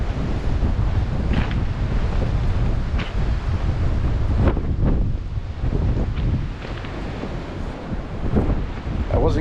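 Strong wind buffets the microphone outdoors, a constant heavy low rumble with gusts swelling and easing, loud and close, with no voice heard over it.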